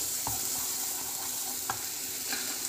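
Sweet potato halwa being stirred with ghee in a pan: a steady soft sizzle under scattered scraping strokes of the spoon, close up, with no talking.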